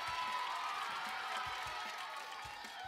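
A game show studio audience applauds and cheers on Brainsurge, a bright, sustained wash of clapping that holds steady and loud throughout.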